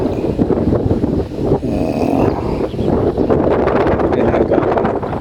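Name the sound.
strong wind gusts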